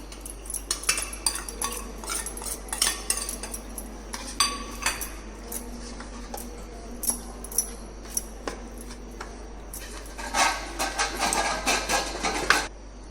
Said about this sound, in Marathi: आता हे सर्व साहित्य मिक्स करून आपण भेंडीमध्ये भरून घ्यायचं आहे